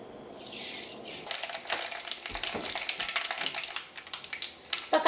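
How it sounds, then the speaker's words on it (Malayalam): Mustard seeds splutter in hot sesame oil for a Kerala beef pickle, giving rapid, sharp crackles and pops that come in uneven bursts, close up and fairly loud, with no talking. "ഇപ്പോൾ കടുക് നന്നായിട്ട് പൊട്ടിയിട്ടുണ്ട്"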